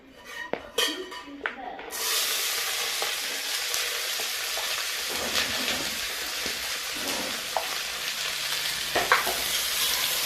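Onions go into hot oil for paneer bhurji, starting with a few scattered clicks and taps before a loud, steady sizzle bursts up and holds, with occasional stirring scrapes near the pan.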